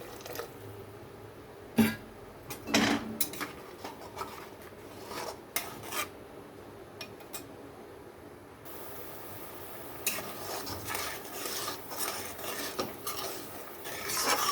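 A spice paste with a little water is stirred and cooked in a pan for an onion-mustard bhola fish curry. Scraping strokes of a utensil against the metal come close and irregular, with occasional clanks, low sizzle and wet sounds.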